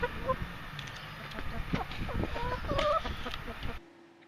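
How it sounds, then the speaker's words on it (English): Backyard chickens cluck close by in a short irregular run of calls, moderately loud over faint background noise before the sound cuts off abruptly. "also got chickens"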